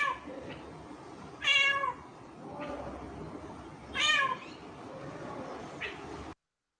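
A fork-tailed drongo mimics a cat's meow, giving two clear, loud meow-like calls a few seconds apart over soft outdoor background noise, with a couple of fainter calls between them.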